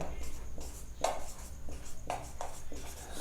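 Chalk or marker writing on a board during a maths lesson on sets, with short scratchy strokes coming in bursts.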